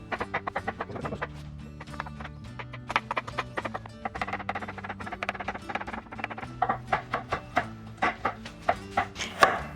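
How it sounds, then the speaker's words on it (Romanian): A knife chops broccoli and carrot into smaller pieces on a cutting board in a home kitchen, in irregular sharp taps that come faster and louder toward the end, with a steady tone playing underneath. "Mai întâi tăiem brocoli și morcovul în bucăți mai mici."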